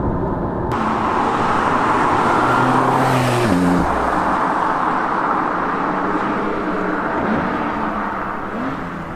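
A Porsche 911 Carrera S of the 992 generation driving in Sport Plus mode, its engine drone steady and loud from inside, with a brief rising shift around the middle before settling back to a continuous hum.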